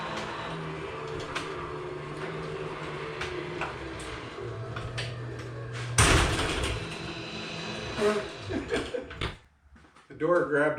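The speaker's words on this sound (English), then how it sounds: "The door grabbed a bungee cord that was hanging beside it." A door slides and rattles over a steady mechanical hum, with a sudden louder scrape partway through as it catches a hanging bungee cord, and a few clunks after.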